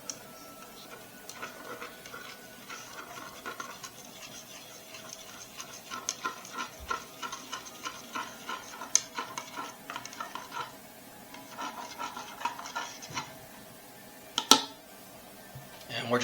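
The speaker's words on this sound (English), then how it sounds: "Just going to give that a stir." Yeast and sugar are stirred in a bowl with a spoon, a run of light rhythmic clinks and scrapes against the sides, fairly quiet, with a couple of sharper knocks and a voice speaking over part of it.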